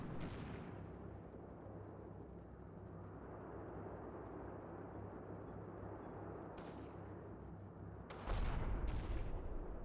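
Gunfire in a tank-battle strategy game, a steady rumbling barrage of shots and distant blasts with a couple of sharp, louder bursts near the end, no talk over it.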